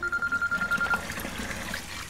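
A telephone rings with a rapid pulsing electronic trill that repeats for about a second, then stops, leaving quiet room noise.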